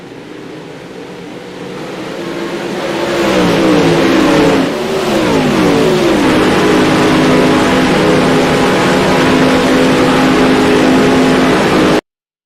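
Late model race cars accelerate hard at Port Royal Speedway, a loud sustained roar of several engines rising in pitch, with overlapping revving tones building and holding steady close by, no voices.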